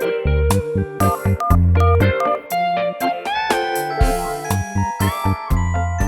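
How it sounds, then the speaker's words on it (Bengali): A phone ringtone plays a bright, jingling electronic melody over and over, loud and close, with no one answering or speaking. "পুরো রিং হলো কিন্তু ধরলো না।"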